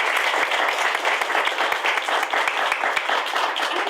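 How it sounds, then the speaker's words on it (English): Sustained applause at a Fort Hays undergraduate research awards evening honoring students, faculty mentors and the Haggards, a full roomful of clapping with some sharper close hand claps popping out of the steady wash. "Let's give our students as well as the faculty mentors and the Haggards a round of applause"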